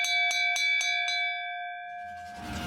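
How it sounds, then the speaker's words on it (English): A bright bell struck about five times in a quick even rhythm, then left ringing with a long, fading metallic hum as background noise rises. "this reverend doesn't like when you ring his bell"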